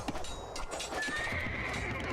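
Horses whinny and neigh in a drawn-out cry in Age of Empires 2 Definitive Edition, with hooves clopping underneath amid busy background noise.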